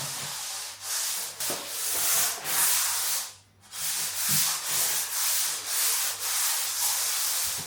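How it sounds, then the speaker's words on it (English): Light hand sanding rubs across a painted surface in steady back-and-forth strokes, close and fairly loud, with one brief pause midway before the strokes resume. "I'm just going to give it a light rub all the way."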